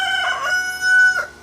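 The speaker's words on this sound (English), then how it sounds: "you can hear the rooster" A rooster crows twice in quick succession, close and loud, each call a bright ringing cock-a-doodle-doo standing alone with no talk.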